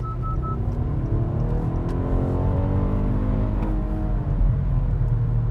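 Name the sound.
Acura RLX Sport Hybrid accelerating hard on the freeway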